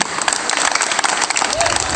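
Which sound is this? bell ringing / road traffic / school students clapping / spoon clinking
school students clapping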